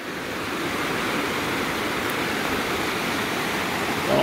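A river's water rushing steadily, a loud, continuous broadband roar close by with no talk over it.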